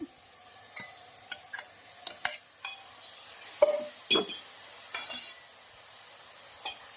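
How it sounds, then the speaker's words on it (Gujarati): A spoon scrapes and stirs through spinach frying in a pan, giving scattered clinks and scrapes over a soft, steady sizzle. "આવી રીતના પાલક તમે ફેરવી શકો છો"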